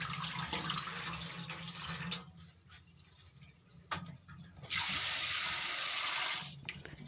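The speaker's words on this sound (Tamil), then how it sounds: "தண்ணியில் மேலால் படிஞ்சிருக்கிறது எல்லாமே அப்படியே நாங்கள் வடித்து திருப்பியும் நல்லா கழுவி அரிச்சு எடுத்துக்கொள்ள வேணும்." Grains are washed and rinsed in water, with running and splashing water coming in bursts, swelling to a loud steady pour, then easing off.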